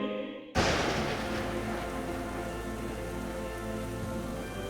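Steady rain falling at night starts abruptly and continues as a dense, even wash of drops hitting surfaces, moderately loud and unbroken.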